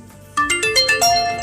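A Facebook Messenger incoming-call ringtone plays a quick, bright sequence of chiming tones that step through a short melody, loud and close with nothing else heard.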